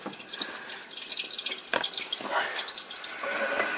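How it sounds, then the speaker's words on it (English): Water rushes and drips steadily through opened valves as it fills a travel trailer's hot water heater during dewinterizing, a continuous splashing hiss with irregular bursts, close by and without talk. "So right now, it's actually filling up my hot water heater."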